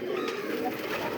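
Fancy pigeons in a loft give a low, continuous cooing murmur, close and steady throughout, with faint background noise and no clear talk.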